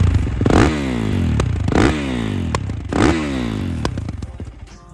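A 2022 Kawasaki KX450X supermoto engine revs up and down nearby in three rising, falling bursts, with mechanical clatter, before settling toward idle; no talking.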